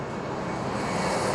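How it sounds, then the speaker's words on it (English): An airplane passes overhead near an airport, a continuous broad engine roar that holds steady and loud across a brief moment. "there's always planes flying and darting overhead their shop"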